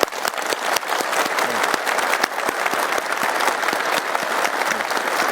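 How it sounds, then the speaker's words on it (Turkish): A crowd claps steadily and enthusiastically for the team behind the first flight of the KAAN fighter jet, a dense patter of many hands sustained throughout, fairly close. "Ben hepinizi alkışlıyorum."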